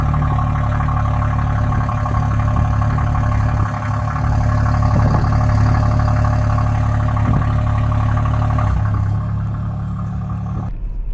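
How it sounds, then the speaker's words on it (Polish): The petrol engine of a Renault Espace E-Tech Full Hybrid 200 runs with its exhaust, a steady loud mid-to-low hum with a faintly uneven rhythm that holds for several seconds, then cuts off abruptly near the end. "raz na jakiś czas silnik odpala się i wchodzi w taki oto brzydki rytm. A żeby było śmieszniej, wydech pięknie brzmi."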